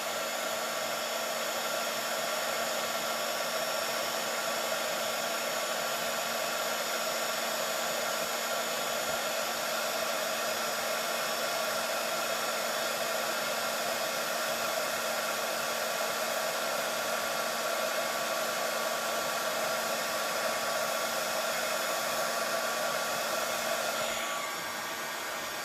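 A heat gun melting silver embossing powder on a Christmas card blows a loud, steady whooshing hum that runs continuously and then cuts off near the end.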